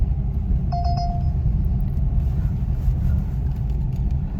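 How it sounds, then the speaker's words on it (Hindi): A taxi cab being driven through Indore in the afternoon, a steady low engine and road rumble filling the cabin throughout, with a brief high electronic beep near the start. "गाड़ी ड्राइव कर रहा हूँ मैं।"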